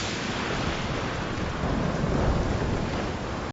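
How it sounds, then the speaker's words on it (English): A thunderstorm at sea in a TV drama pours down as dense, loud rain and rolling thunder, a continuous heavy roar that swells midway with no voices over it. "Storm is wiping out a lot of the Danish ships."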